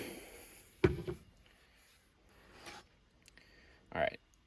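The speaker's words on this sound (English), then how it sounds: "Next, we'll connect our motor to this side. Clips in, and then clockwise to lock." A motor connector on a Kollmorgen servo drive clips in and twists clockwise to lock, giving a sharp click and brief rubbing followed by a second short snap, close and fairly quiet.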